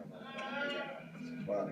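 A sheep bleating in drawn-out, wavering cries at a livestock market in Saudi Arabia, fairly close, with a second shorter bleat near the end.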